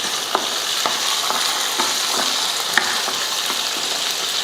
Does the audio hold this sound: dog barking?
no